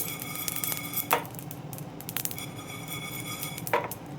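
Mustard seeds spluttering in hot oil while being fried for amla pickle, a light scatter of small pops and crackles over a soft sizzle, with a few sharper ticks standing out.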